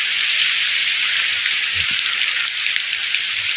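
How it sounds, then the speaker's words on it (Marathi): Light, fine rain falling over farmland in rural Konkan during the first rain of the season, a steady soft hiss that holds evenly throughout with no one speaking. "बारीक बारीक बारीक बारीक पाऊस असा पडतोय"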